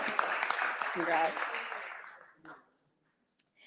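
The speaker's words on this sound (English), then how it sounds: "We can keep the clapping going." Applause from the audience at a school commencement ceremony for a graduating honor student, a dense spread of clapping that fades out over a few seconds into near silence.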